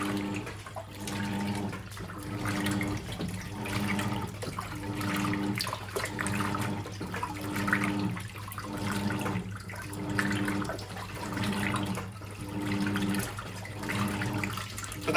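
A Simpson Enduro 701 washing machine agitator churns through a normal warm wash, its strokes reversing roughly every second and a half in an even, repeating rhythm over a constant hum of sloshing water.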